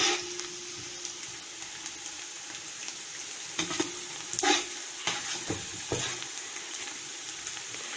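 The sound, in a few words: onions frying and being stirred until golden brown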